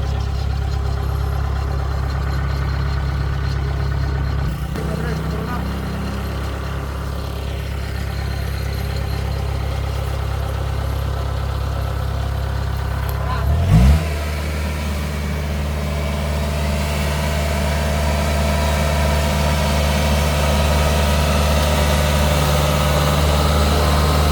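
A harvesting machine engine runs steadily throughout, a low continuous rumble with a brief louder surge midway, no voices.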